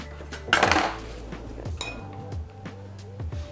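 A spoon stirs garlicky mac and cheese sauce in a pot, with a loud scraping clatter early on and then lighter clinks and taps against the pot's sides, close up with no talking.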